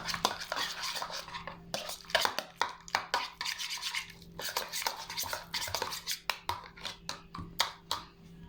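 Slime from a hobby slime kit being stirred, mixed and scraped in a container, giving close, repeated wet clicks and scraping strokes in an uneven rhythm with no talking.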